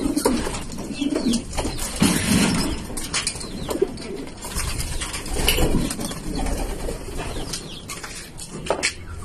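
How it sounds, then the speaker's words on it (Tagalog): Pigeons cooing repeatedly nearby, soft throaty calls overlapping with some rustling and faint background noise. "Marami kalapati dito."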